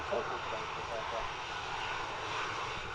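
An aircraft engine drones steadily at Manchester Airport in wind and rain, a loud continuous roar holding level for the whole stretch, with voices faintly present beneath.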